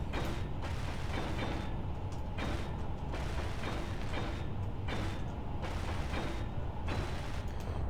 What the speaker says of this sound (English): let's weld this up and then see how that looks